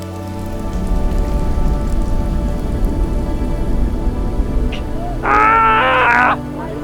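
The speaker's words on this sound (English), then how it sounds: "the rain starts to fill in again" Heavy rain pelts a racing sailing yacht at sea, a dense, loud and continuous patter with wind noise. A brief tonal squeal rises over it near the end.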